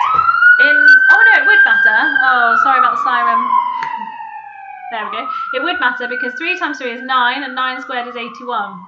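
An emergency siren wails outside with a long sweeping tone that dips and rises again, steady and loud under a person talking close by.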